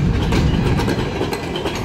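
A long freight train of 80+ cars hauled by a single SD40-2 locomotive rumbles past close by, a loud steady roar of wheels on rails with rhythmic clacking throughout.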